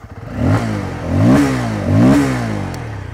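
A Bajaj Pulsar F250 motorcycle engine starting and running close by, its pitch rising and falling through three distinct revs over a steady idle.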